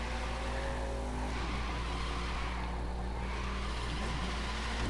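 Racing car engine from The Crew 2 game drones loudly and steadily throughout, a sustained high-revving whine with shifting pitch as the car pushes through a wide turn.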